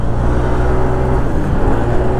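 A car engine running close by on a road outside a Yamaha dealer service workshop, a loud, steady low rumble with a faint tonal hum and no speech over it.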